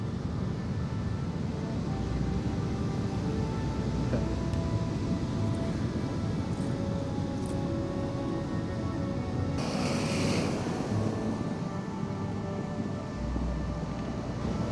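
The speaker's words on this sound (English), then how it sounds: "these waves that are rolling in now are caused by wind offshore" Winter waves roll onto an English beach, a steady, unbroken surf roar that holds at an even loudness throughout, with a brief brighter wash of spray partway through.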